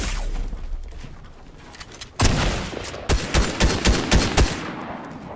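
Rapid shotgun fire in Fortnite, in a post-apocalyptic free-for-all match. After a low rumble comes one sharp blast, followed by a quick succession of punchy shots.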